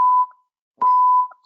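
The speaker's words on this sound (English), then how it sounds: "That's fire alarm tests." Two sharp, loud electronic beeps from a fire alarm test, each holding a pure steady tone for about a quarter to half a second, separated by a short silence and heard clearly with no voices.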